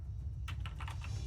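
Keys on a computer keyboard are struck in a short quick burst of about half a dozen light clicks, close and moderately loud over a steady low hum, with no talking.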